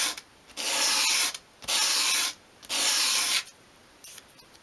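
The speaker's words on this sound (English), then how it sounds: "just hold the piece against a sheet of sandpaper on your worktop at a 45-degree angle and then just sweep it towards you" A small wooden piece for a 1/12 scale chest of drawers is swept across a sheet of sandpaper on a worktop, giving three steady rasping strokes with pauses between them and a short final scrape, close and alone.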